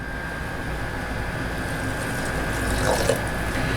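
Water poured into a cooking pan holding a little olive oil, a steady rushing pour that swells slightly toward the end.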